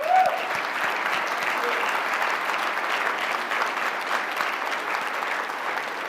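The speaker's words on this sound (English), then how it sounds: "Give her a round of applause." An audience at a startup fireside-chat event claps steadily for several seconds, a dense, even wash of applause without any talk over it.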